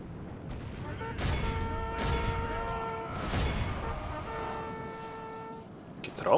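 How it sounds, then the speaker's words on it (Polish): Sustained brassy trumpet notes sound over a noisy battle in the game The Third Age: Total War, with booms and clatter, the horn calls holding steady tones before a sharp burst at the end. "Trąbki załączyli."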